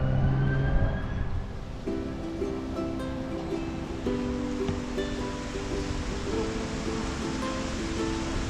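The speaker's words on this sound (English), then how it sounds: "So we're here at the beach, more or less." Ocean surf rolls in at Kanaha Beach in Kahului, Maui, a continuous wash of waves heard from nearby. Faint tonal hums drift over it in the background.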